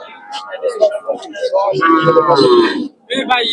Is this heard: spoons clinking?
no